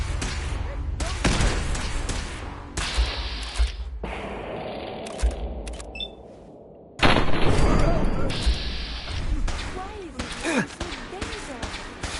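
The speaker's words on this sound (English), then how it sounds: "Grenade!" Gunfire and a grenade blast in the video game Fallout 4, loud bursts of shots and a heavy explosion with a brief lull in the middle, with shouted voices over the combat.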